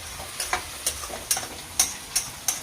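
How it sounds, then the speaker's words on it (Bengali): Chicken kosha fries in a pan at home while a utensil scrapes and taps it, giving a soft sizzle and about eight sharp, evenly spaced clinks of metal against metal. "আমার ভাই রান্না করছে চিকেন কষা।"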